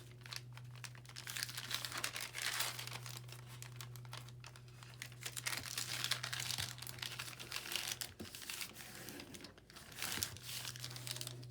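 Paper sack being folded in half for a folio, with continuous close crinkling and crumpling of stiff paper over a low steady hum, no talking.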